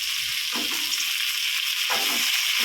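Onion, tomato, brinjal and curry leaves sauté in hot oil for radish-mango sambar, a steady close sizzle with a few stirring scrapes and no talk.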